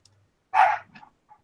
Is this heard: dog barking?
yes